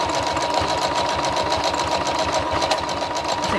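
A sewing machine runs a zigzag stitch through fabric for a piping bowl, with a rapid, even mechanical chatter at a steady pace, close and clear, with no talking.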